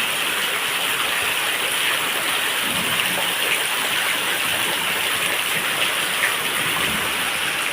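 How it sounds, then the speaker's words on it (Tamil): Continuous heavy rainfall in Arakkonam, a thick roaring wash of water that stays loud and even throughout, with no voices present. "எவ்வளோ மழை வருது பாருங்க"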